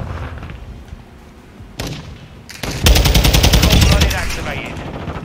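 Call of Duty gunfire with a TAQ-56 rifle: a single sharp shot, then dense rapid automatic bursts crackle loudly and close for several seconds.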